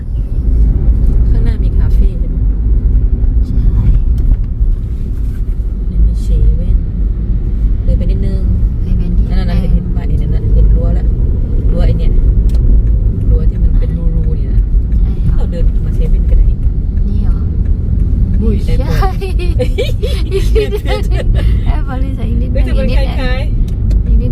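Steady road rumble and engine drone heard from inside a car driving through Phuket, loud and continuous throughout, with someone talking over it at times.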